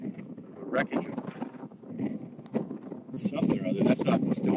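Strong, gusty wind buffets the microphone in a steady roar on a rocky seaside at Kejimkujik Seaside, with a person talking underneath it throughout.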